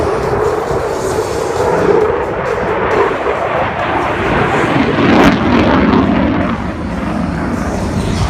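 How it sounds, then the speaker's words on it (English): A propeller aircraft performing a barrel roll at the Bournemouth Air Show roars loudly and steadily overhead, its engine drone swelling and shifting over several seconds in open air. "One of my personal favourite manoeuvres, the barrel roll, which Jim looks like he's doing a skid mid-"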